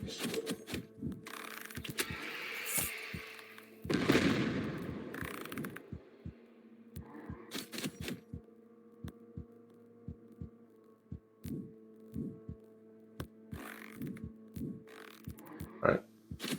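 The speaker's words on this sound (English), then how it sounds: "Now I get to hear the heartbeat beat for a while." A heartbeat effect from the video game In Death: Unchained thumps in a steady rhythm of soft, regular beats over a low hum, with occasional louder game noises mixed in.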